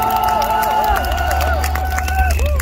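Crowd at an outdoor memorial rally for the Itaewon disaster claps and cheers loudly, a dense roar of applause with shouts over amplified ringing tones, steady throughout.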